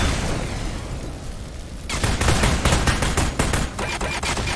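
Toilet turret gunfire in the video game Aperture Desk Job comes as a loud rapid fusillade of repeated shots. It starts after a rumbling lead-in and continues without a break to the end.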